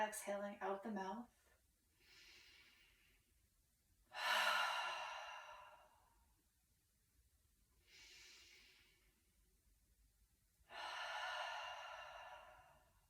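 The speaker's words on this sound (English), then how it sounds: "taking a full breath in through your nose and exhaling out the mouth" During a yoga therapy session, a close, quiet voice alternates with long, slow breaths: two deep inhales drawn in through the nose, each followed by a broader, airy exhale out the mouth, in an unhurried rhythm.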